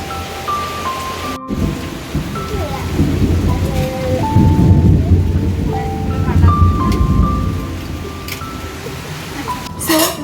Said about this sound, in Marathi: मस्तपैकी गडगडाटासह पावसाने हजेरी दिलेली आहे